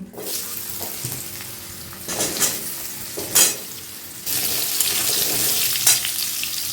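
Potatoes dropped into a hot pan of oil seasoned with asafoetida for a vegetarian Bengali potato and pumpkin dish sizzle steadily, with a few louder scrapes and bursts as they are stirred.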